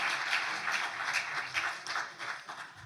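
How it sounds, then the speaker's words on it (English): Audience applause breaks out at a Capistrano school district board meeting, a fairly quiet spell of scattered hand clapping in uneven bursts that swell and fade across the room, with no speech over it. "Ladies and gentlemen, if we could please hold the applause."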